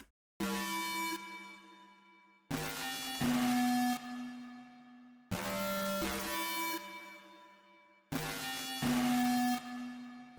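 A synth plays a repeating melody of sustained, bright tones in four similar phrases, each starting abruptly, with no voices or drums.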